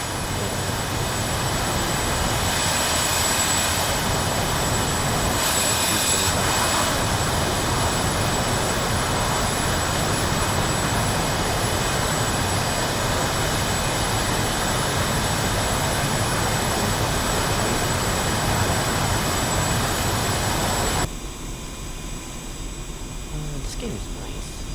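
A jet aircraft taxis toward the runway in the DCS flight simulator, its engines holding a loud, continuous rumbling hiss with a high steady whine before the sound abruptly drops lower near the end.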